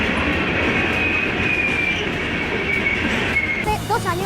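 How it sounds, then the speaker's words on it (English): A train locomotive rumbles past at close range, a loud steady roar with high metallic wheel squeal running through it, then a brief shift to other sounds in the final half second. "You can almost feel the locomotive's power through the camera as the entire view shakes while it passes."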